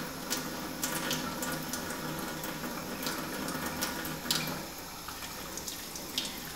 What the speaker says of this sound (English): Very quickly dunk the brushes in the soap and then just swirl them around like this.